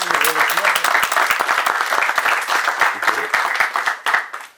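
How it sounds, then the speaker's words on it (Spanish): An audience gives a warm tribute applause at a Heritage Day event in Rocha, with dense, continuous clapping close by that thins slightly toward the end. "De más está un aplauso de homenaje."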